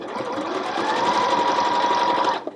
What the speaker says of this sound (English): So now, we stitched some of the zigzag stitch